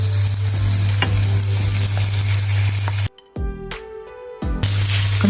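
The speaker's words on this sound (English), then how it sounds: "Continue to fry until the color of the tofu have changed to yellow." Tofu frying and being stirred in a pan gives a steady, loud sizzle that drops away briefly midway, with a few scraping stirs, then resumes.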